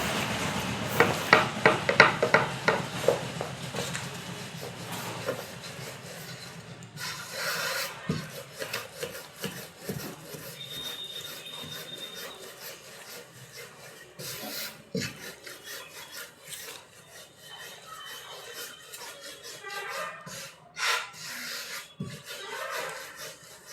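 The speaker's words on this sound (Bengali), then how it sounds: "একটা গোল্লা নিয়ে নিয়েছি এবার বেলবো এটাকে" Rice flour roti dough being rolled out with a rolling pin, a rhythmic rubbing scrape against a wooden board, strongest early on and then continuing as softer irregular strokes without talk.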